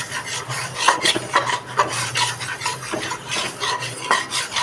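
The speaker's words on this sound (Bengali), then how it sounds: "এখানে বাটারের সাথে আমি ময়দাটাকে ভালো করে মিশিয়ে নিচ্ছি।" Flour being stirred into melted butter in a pan for a white sauce: steady, close scraping and rasping strokes in a quick, even rhythm, with a faint sizzle underneath.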